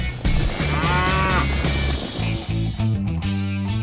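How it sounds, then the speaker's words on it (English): Cattle that escaped from a veterinary school while having hooves trimmed, mooing loudly and close, several long lowing calls one after another with no talk. "these cattle haven't gone Greek"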